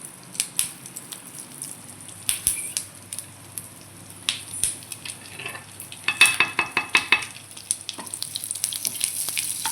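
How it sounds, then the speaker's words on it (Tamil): Mustard seeds popping and spluttering in hot oil with curry leaves and dried red chillies, a rapid run of sharp crackles and pops that thickens toward the end, close and fairly loud with no talking. "கடுகு நல்லா பொறிஞ்சு வரட்டும்"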